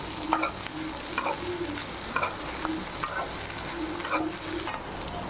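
Brinjal sautéing in a pan for vathakkal, a steady soft sizzle under regular stirring, with a spatula scraping and tapping the pan roughly once a second, close and unaccompanied by talk.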